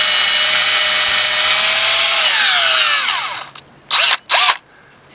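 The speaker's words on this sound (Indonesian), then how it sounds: "drill into the tree about 2 inches." A power drill bores about two inches into a tree trunk, whining steadily and loudly up close, then winding down as the bit is pulled out, followed by two brief bursts of high spinning.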